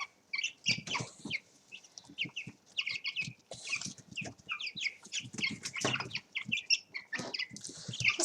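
Backyard chickens cluck and squawk busily while crowding around a dish of yogurt mash, a dense, close flock chatter with some wing flapping and scuffling.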